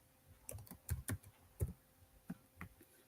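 Typing on a computer keyboard, a quiet, close series of irregular clicking keystrokes, some in quick pairs, separated by short pauses and with no talking.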